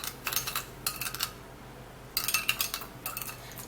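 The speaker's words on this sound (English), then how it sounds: "you're gonna stir this really good so that all of the ingredients would mix together really well" A spoon stirs and scrapes homemade lip scrub ingredients in a small container, two bursts of clinking scraping strokes separated by a short pause, close and fairly quiet.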